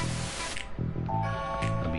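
A spray paint can hisses in the game Bully, a steady hiss for about half a second followed by quieter rattling and clicking game sounds.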